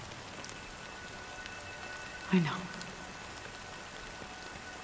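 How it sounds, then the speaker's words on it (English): Steady soft rain patters throughout in the game Honkai: Star Rail, with a brief voice speaking briefly in the middle. "But it's still raining."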